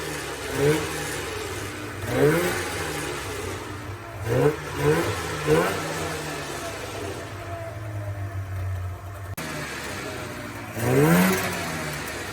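Polaris Indy 500 snowmobile engine idling steadily around 1500 RPM after carburetor cleaning and synchronizing, with the air box off; a continuous mid-pitched hum with several brief throttle blips rising and falling over it, close and fairly loud.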